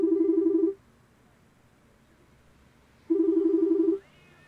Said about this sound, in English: I pick up my cell and decide to end the night with a positive phone call